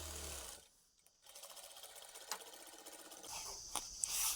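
A sewing machine stitches a half-inch seam on a collared uniform dress in quick, rapid bursts, close and clear, broken by short pauses with no talking.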